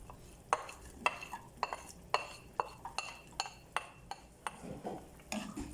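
Garlic and onion being stir-fried in a little oil in a frying pan, heard as a series of sharp utensil clinks and scrapes against the pan at an irregular rhythm over a faint background.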